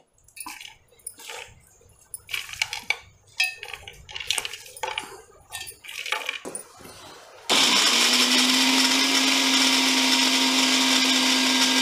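An electric mixer grinder whirs loudly and steadily, grinding green chilies with coconut for a rustic village-style chutney, starting abruptly after a stretch of scattered kitchen clatter and clinks.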